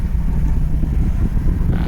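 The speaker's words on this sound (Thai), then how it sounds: "นี่ผมจะเปิดแอร์นะครับ หรือว่ากด AC ครับนี่ครับเสียง เหมือนมีอะไรพ่นออกมาครับ บริเวณใต้คอนโซลครับ" With the AC engaged in a 2012 Ford Ranger XLT whose evaporator is deteriorating, a steady hissing spray mixes with loud, continuous low engine and blower rumble inside the cab, close and unbroken.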